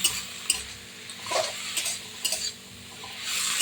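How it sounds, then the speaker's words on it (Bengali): Bottle gourd leaves are stirred in a pan, with uneven scraping and clinking spatula strokes over a soft sizzle, close and alone without voices. "এবার এটাকে আমি নেড়ে চেড়ে একটু ঢেকে দিতে হবে"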